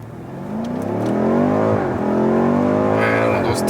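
A turbocharged BMW M5 F90 accelerates hard, engine note climbing steadily in pitch through a gear, then dipping and rising again, loud and close, with someone speaking briefly over it.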